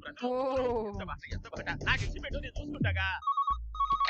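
People speak first, then a landline telephone rings in short repeated electronic bursts, clear and fairly close.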